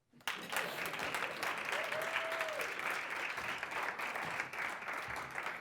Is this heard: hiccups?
no